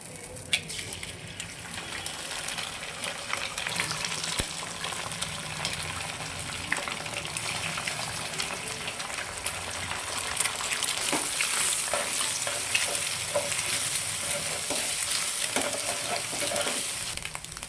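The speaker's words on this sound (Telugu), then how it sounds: "స్టవ్ ఆన్ చేసుకొని ప్యాన్ పెట్టి దీంట్లో ఆయిల్ యాడ్ చేసుకోవాలి టూ ఎగ్స్ బిట్ చేసుకోవాలి" Eggs frying in oil in a pan on a stove, a steady close sizzle running throughout with small crackles and occasional stirring or scraping, growing slightly louder in the second half; no talking.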